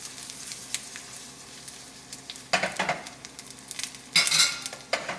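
A butternut squash and apple burger patty sizzling in a pan: a low steady sizzle with a few sharper scraping and clinking bursts from a utensil, close and fairly quiet, no talking.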